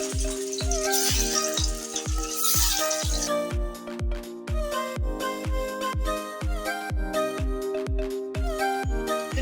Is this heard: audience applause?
no